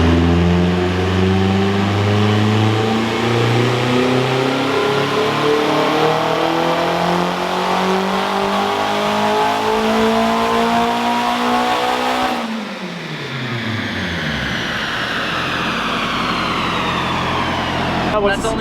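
A turbocharged Honda K20 engine in a Civic revs hard on a dyno, holding a loud, sustained roar that climbs steadily. It then drops off abruptly and builds again, with faint voices beneath the engine.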